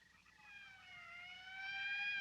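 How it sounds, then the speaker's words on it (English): Police car siren in a 1950s black-and-white film, a single wailing tone that slides down and then climbs, rising in loudness over a few seconds against a faint low background. "That's the 5th siren in the last hour."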